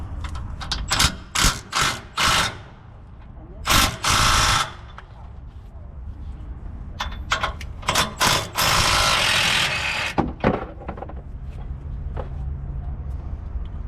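Bursts of a ratchet wrench clatter loudly in quick repeated runs as bolts come off a truck, a RAM or Ford pickup, with pauses between pulls and some low voices nearby.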